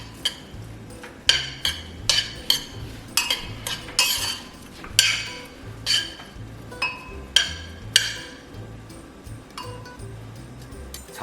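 A spatula scrapes and clanks against a wok while garlic, scallions and oxtail are stir-fried in a little cooking oil. The metallic knocks come repeatedly at an irregular pace over a low, faint sizzle, close up with no talking.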